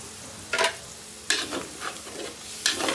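Chicken simmering in coconut milk is stirred in a pan with a spoon, giving three or four short scraping strokes against the pan over a soft, quiet sizzle.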